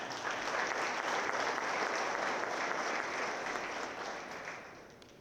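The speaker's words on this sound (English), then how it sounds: "Let's give them a round of applause." An audience at a high school athletic hall of fame ceremony gives a steady round of applause, a full, even wash of many hands clapping that fades out over the last second or so.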